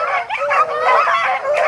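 Beagle hounds bay and yelp on a rabbit hunt outdoors. A near, loud chorus of overlapping howling barks carries on without pause and no one speaks.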